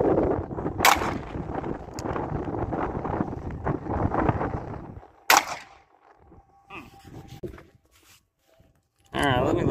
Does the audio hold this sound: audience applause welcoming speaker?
no